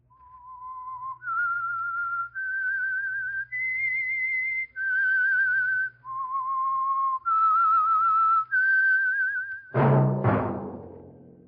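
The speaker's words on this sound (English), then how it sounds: "That whistle is your signal for the Signal Oil Program, The Whistler." A clear melodic whistled tune of sustained notes stepping up and down, the theme of the old-time radio show The Whistler, played alone, ending with a sudden loud burst of sound.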